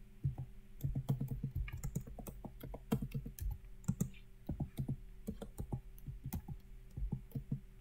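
Fingers type on a computer keyboard in a steady patter of quick clicking keystrokes, close up and fairly quiet, for several seconds with no voices.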